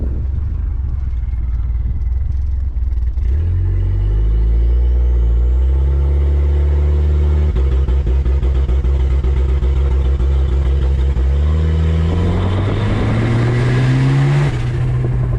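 A turbocharged, fully stock wagon engine revs up hard to high RPM, climbing in steps through a loud, rising roar and settling into a sustained high-pitched drone, with no talk over it.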